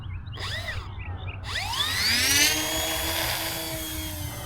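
A Flite Test Twin Otter RC model plane taking off, its twin electric motors whining and rising steeply in pitch as they throttle up, loud and close before the tone sweeps and settles as the plane climbs away.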